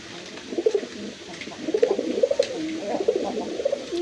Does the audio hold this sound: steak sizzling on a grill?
no